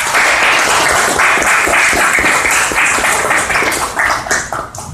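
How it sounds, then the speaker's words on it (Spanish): An audience at a civic citizens' consultation forum claps for the elected municipal president, a steady, close, fairly loud burst of applause that thins slightly toward the end. "Extendemos nuestro aplauso para el presidente municipal electo"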